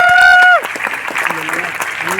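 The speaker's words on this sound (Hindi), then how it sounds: "एक बार ताली बजाओ जरा" Audience applause at a Hindi-language Vestige product sales seminar, a burst of group clapping following a host's spoken request, close and fairly loud, with the host's voice over it.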